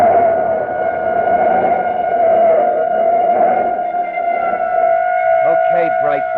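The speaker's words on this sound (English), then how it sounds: "Hey, police siren a block behind." A police siren wails steadily a block behind in an old radio drama, its sustained tone running throughout with faint background noise and some muffled sounds near the end.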